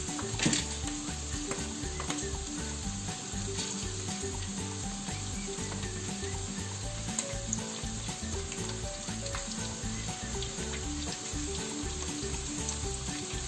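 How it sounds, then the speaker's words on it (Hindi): Coarsely chopped ginger and garlic frying in hot oil, a steady dense sizzle with crackling pops that holds at an even level throughout, no voices over it. "अब इसमें हमने जो हमने मोटा मोटा काटा हुआ है अदरक और लहसुन वो डाल देना है।"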